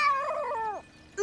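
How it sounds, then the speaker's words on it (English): A cartoon cat lets out one loud, drawn-out meow that wavers and then slides downward before fading. A brief faint sound follows just at the end. "If you can get this cat off me"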